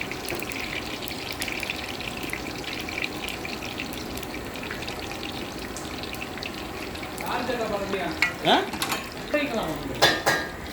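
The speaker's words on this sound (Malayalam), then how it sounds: "സുയ്യം വറുത്തുകൊണ്ടിരിക്കുകയാണ്." Sweet snacks sizzle steadily in hot coconut oil while a utensil scrapes and clinks against the pan, the stirring growing busier toward the end.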